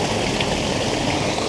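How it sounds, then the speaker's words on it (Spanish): Water pouring forcefully down a mill stream in Benamahoma, a loud, steady rushing roar close by with no voices over it. "Mira cómo cae el agua por ahí."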